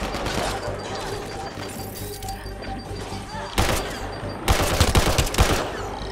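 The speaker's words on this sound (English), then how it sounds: "Well, this is an assault rifle." Assault rifle gunfire in the video game Mass Effect Andromeda, rapid automatic bursts crackling amid a dense combat din, growing louder and sharper in the last two seconds.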